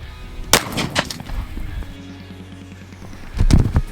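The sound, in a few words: shotgun firing Federal Flight Control load at 10 yards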